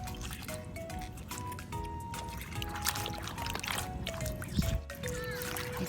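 A basket of shellfish is rinsed in water at night by a fishing pier, with soft sloshing, trickles and drips over a faint background hum.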